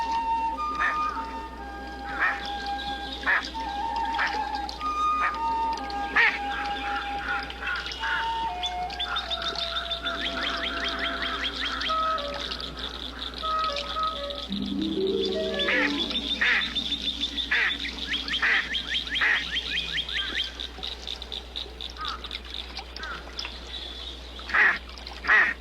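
Injured mallard duck, a big drake with a damaged wing that cannot fly, quacking in a natural setting among other bird calls and chirps, with repeated quacks near and clear over a steady background.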